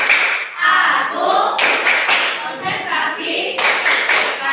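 A classroom group claps in rhythmic bursts for a concentration clapping ice-breaker game, with chanting voices between and over the claps.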